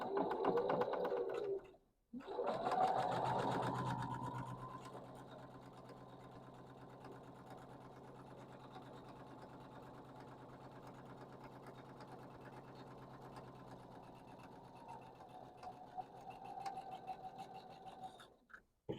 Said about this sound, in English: I'm going to sew on both sides of this marked line.